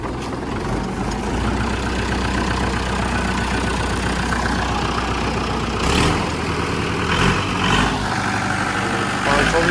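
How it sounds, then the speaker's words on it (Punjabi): A heavy 47 hp tractor diesel engine, fitted with a rotavator, runs steadily at a low, throbbing idle-like rumble, with a few brief louder bursts of mechanical clatter near the end. "ਹੁਣ ਚੱਲ ਰਿਹਾ ਜੀ ਟਰੈਕਟਰ ਆਰਾਮ ਨਾਲ"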